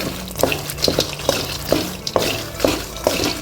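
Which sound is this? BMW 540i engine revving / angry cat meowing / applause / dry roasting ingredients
dry roasting ingredients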